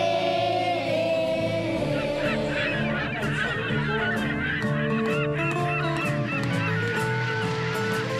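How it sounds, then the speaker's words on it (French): A huge seabird colony on Bonaventure Island, Quebec, calls in a dense, continuous chorus of harsh, overlapping honking cries, loud and close, with no talk. "L'île Bonaventure et ses milliers d'oiseaux n'ont pas encore vu de touristes."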